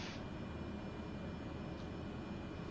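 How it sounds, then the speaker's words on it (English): An aircraft engine at takeoff power in Flight Simulator 2020, a steady, loud, droning roar that holds evenly throughout with no talk over it. "Normal takeoff, flaps are set, power lever set for takeoff"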